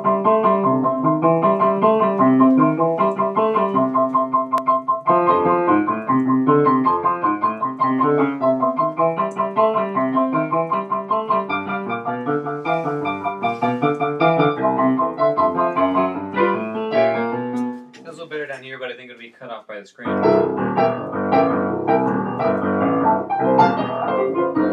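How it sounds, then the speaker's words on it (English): Solo piano plays a boogie-woogie blues in C, a steady rolling left-hand bass under chordal right-hand riffs, loud and close, with a brief break near the end before the groove resumes; no talking. "I think it's Boogie Woogie Blues. Sounds like this."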